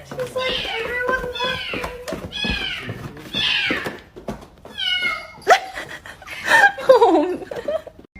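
A cat gives repeated drawn-out meows and yowls while its rear is scratched, close and loud, with human laughter and chatter over and between the cries.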